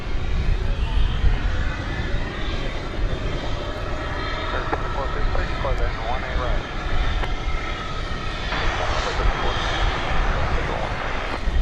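An American Airlines Boeing 787 Dreamliner passing at DFW Airport, a loud, continuous engine roar at close range with a voice talking over it.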